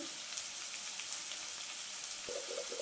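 Chopped onion sizzling in a pan with green chili, ginger and garlic, a steady close frying hiss throughout, with a few soft clinks near the end.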